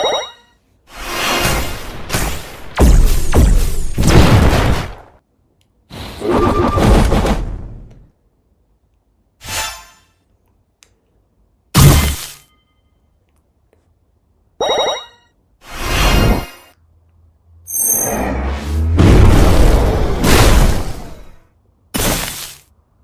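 Card-battle video game Hitstun fires off an extra attack card effect as a series of sharp, loud synthetic impact bursts with shattering crashes, separated by short silences, with no voices.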